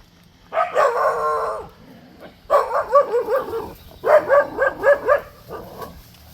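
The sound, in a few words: puppies barking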